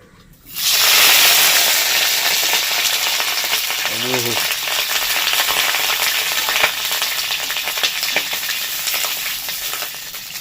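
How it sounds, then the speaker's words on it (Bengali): Cauliflower florets dropped into hot oil burst into a loud, steady sizzle and hiss that starts abruptly and carries on close by, with light stirring, no talking. "প্রথমে না ফুলকপিটাকে একটু হালকা করে ভেজে নেব তার জন্য এখানে তেল দিয়ে দিচ্ছি"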